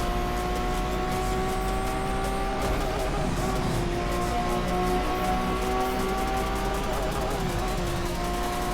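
A Lamborghini race car engine in the racing game Asphalt 8 drones steadily and loudly throughout, with sustained high engine tones shifting slightly in pitch and dense background game noise.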